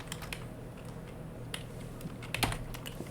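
Quiet keystrokes on a computer keyboard while Python code is typed, a sparse run of light, irregular clicks with one slightly louder tap near the end, close up and alone.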